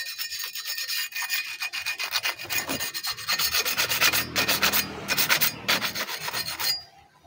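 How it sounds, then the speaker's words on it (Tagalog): Rhythmic rasping strokes of sandpaper rubbing against a boat propeller blade, repeated back and forth at close range with no talking. "Ihaguran mo lang ng liha."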